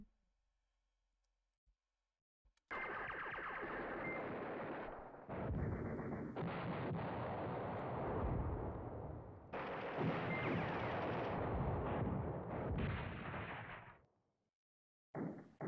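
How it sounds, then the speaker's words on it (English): Artillery bombardment rumbles in the Command Ops 2 wargame, set during the French-German tank battle at Hannut. Long roaring barrages of blasts start and stop abruptly over about twelve seconds, faint overall and with no talking. "I'll keep the bombardments up here"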